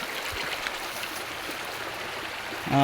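A countryside stream flows steadily on a mountain trek, a constant soft wash of moving water that stays even throughout, with a brief louder tonal sound cutting in right at the end.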